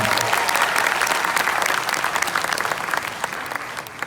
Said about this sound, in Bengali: সবার মিউজিশিয়ানদের জন্য এটা জোরে করে হাততালি